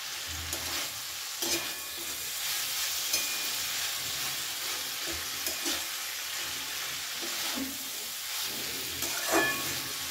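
Slit green chillies and small mourola fish sizzle in a pan over a medium gas flame, a continuous hissing crackle with occasional scrapes of stirring.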